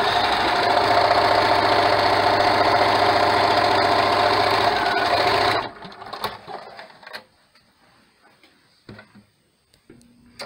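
A sewing machine stitches stretchy t-shirt yarn onto a child's cloth mask, running as a steady, close, busy mechanical whir for about five seconds, then stopping abruptly and leaving only faint handling clicks and rustles.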